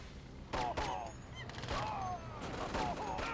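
Sniper units firing in the real-time strategy game Red Alert 2: Blitz, a few sharp gunshot cracks with whistling tonal trails repeating roughly every second over a busy battle soundscape, with a commentator's voice running underneath.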